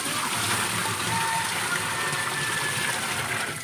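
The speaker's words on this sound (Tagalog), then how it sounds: "lalagyan muna namin ng tubig" Water pours steadily into a Sharp 8.5 kg washing machine, a continuous close rushing and gushing hiss with no breaks that fades slightly at the very end.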